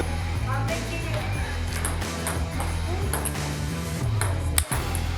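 A table tennis ball struck back and forth during a casual game at a chess camp, sharp light pings in an irregular rally heard over background music and voices in a lively room.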